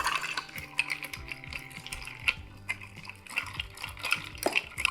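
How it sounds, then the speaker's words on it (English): Ice clinks and rattles in a glass as a bartender stirs a cocktail with a bar spoon, a quick, busy run of close, bright knocks and scrapes that goes on without a break, with no voices. "Let's give it a stir."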